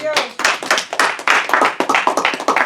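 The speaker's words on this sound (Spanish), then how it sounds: "Dar un aplauso a Dios." A church congregation claps together in a quick, uneven rhythm of sharp slaps, close and loud, with voices calling out over the clapping throughout.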